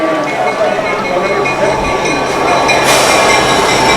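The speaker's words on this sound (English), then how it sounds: "Train going by the stadium." A train rolls past a high-school football stadium during a homecoming game in York, a steady broadband rumble with wheel and rail noise that swells toward the end, with crowd and voices under it.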